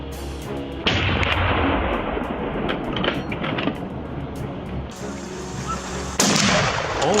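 Hunters fire on wild boars with a dense, continuous volley of loud gunshots and booming reports that overlap and echo through open ground for several seconds.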